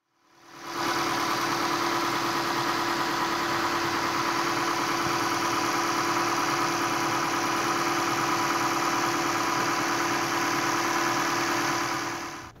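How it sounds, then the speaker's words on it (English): A freshly installed replacement engine runs in a Toyota Camry Hybrid, holding a steady, loud idle with a constant hum and faint vibration, alone from start to finish. "Once everything was hooked up and all the fluids were in,"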